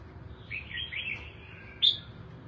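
A songbird sings close by in a few high, whistled chirps, ending in one louder, sharper note, over a faint low background hum.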